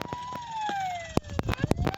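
Ambulance siren in a Roblox graveyard-keeper game: a descending wailing tone sweeps loudly through the first second, then trails off under sharp game impacts and clatter.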